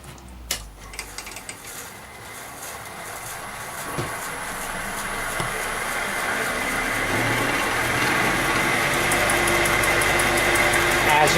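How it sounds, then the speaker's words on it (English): A small metal lathe fitted with riser blocks runs steadily, a smooth mechanical whir that builds gradually in loudness after a few light clicks at the start, with no speech. "one thing that I found with this lathe is that it's a lot quieter than the Atlas for some reason"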